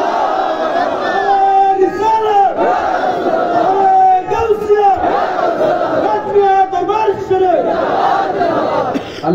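A large crowd at an Islamic religious gathering in Bangladesh chants a slogan in unison, loud and continuous, the many voices rising and falling in repeated rhythmic phrases throughout.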